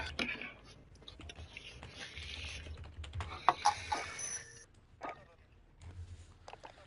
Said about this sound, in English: He's typing like a madman over there.